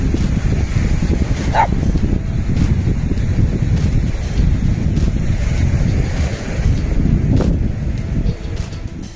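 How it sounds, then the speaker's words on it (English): Surf rolls onto a beach in a continuous loud wash, with heavy wind buffeting the microphone throughout. A dog's brief yelp or two cuts through the roar. "I'm going to take Ruby down on the beach"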